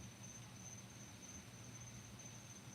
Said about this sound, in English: The crickets were brought up as a nice background.